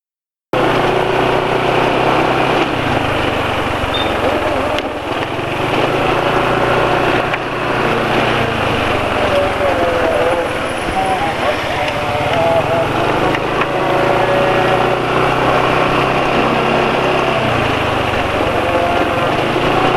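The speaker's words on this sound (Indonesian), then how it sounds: "tapi ini ketika dilepas gas nggak langsung turun RPM-nya. Suara mesinnya juga masih termasuk halus ya." A small engine runs steadily close by for the whole stretch, with gentle swells and dips in its drone as the throttle is opened and released, and no clear voices over it.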